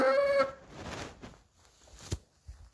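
A young pet chick clucks softly indoors, giving a few short, faint, broken calls over quiet near-silence.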